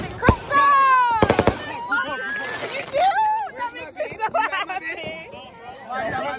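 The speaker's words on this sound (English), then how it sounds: "Fireworks!" Fourth of July fireworks crackle and pop in rapid bursts amid a lively crowd, with people chattering and shouting over the bangs.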